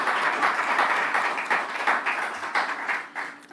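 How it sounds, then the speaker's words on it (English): An audience claps through a bank branch commissioning ceremony, a steady patter of many hands with rhythmic swells, moderately loud and without talk. "I was wondering why you're not clapping at that."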